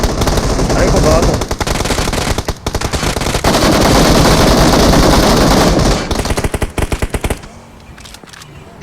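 Rapid, loud automatic gunfire from a shooting video game rattles almost nonstop for several seconds, with short gaps and a few trailing single shots, while players talk over it.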